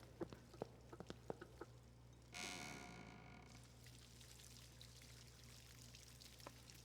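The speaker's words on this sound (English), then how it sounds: "you can hear water." Water pours and trickles in a video game, starting as a brief steady rush and then fading into a soft trickle under scattered drips and taps.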